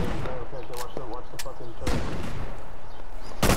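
Video game gunfire comes as a handful of sharp, loud shots spread unevenly, ending with one strong blast, while players talk excitedly over and between them.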